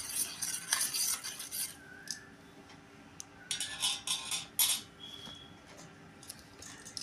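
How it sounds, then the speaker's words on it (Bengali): Lassi being stirred with sugar and salt: a run of quick scraping, clinking strokes in a container, coming in uneven bursts with short pauses, close by, with no one talking. "আমি এটা দিয়ে ভালো করে ঘুটিয়ে নেব"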